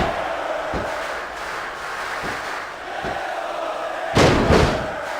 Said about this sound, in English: I can't remember the last time I seen a crowd so pumped up